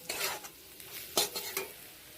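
Bay leaves sizzle in hot oil in a pan while a spoon scrapes and stirs. A few quick scraping strokes sit over a soft, steady frying hiss, with no voices.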